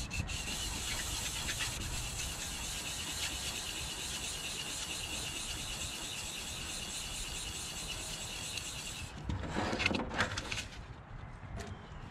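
Fine 800-grit sandpaper rubs steadily over the aluminum hull of an airboat, a continuous close scratchy hiss that shifts to a rougher, louder scrubbing near the end.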